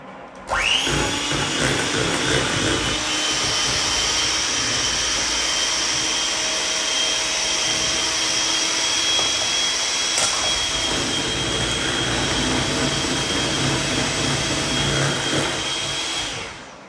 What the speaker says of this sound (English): now we're just going to quickly whisk this up. 15 seconds of that